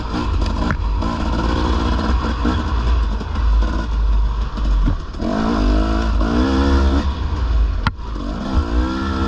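A dirt bike engine runs on a trail, its throbbing note sitting near idle but rising and falling in a few small throttle swells, loud and close with no talking.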